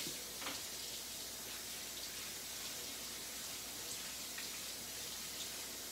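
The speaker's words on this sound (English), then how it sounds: "let me wash my hands off" Tap water runs steadily into a sink as someone rinses their hands while cooking dinner, a continuous close splashing hiss at a fairly low level with no talk.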